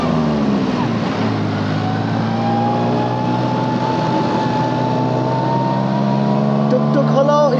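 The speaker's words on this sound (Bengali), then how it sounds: "টুকটুক হলো স্পিড দেখে মনে হচ্ছে সে BMW চালাচ্ছে" A tuk-tuk speeding through Bangkok streets, its motor giving a steady, close droning whine that holds throughout, with the pitch rising slightly toward the end.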